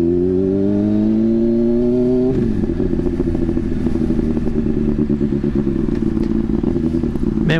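A sport motorcycle ridden at night: the engine rises in pitch through a gear, briefly drops at a shift, then drones loudly and steadily with a rough, throbbing exhaust and wind rush.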